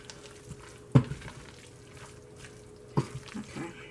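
Canned corned beef hash simmering in a pan on low heat, a quiet bubbling hiss with two sharper clinks or scrapes standing out, close and faint.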